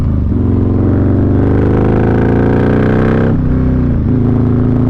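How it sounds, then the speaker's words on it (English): Harley-Davidson 128 Street Glide with a performance exhaust, loud and close, pounding out a deep rumble that climbs steadily through a long rev before the throttle drops off and it settles back to a throbbing idle. "This exhaust, whew, it sounds like a monster. It just pounds the ground right beside you."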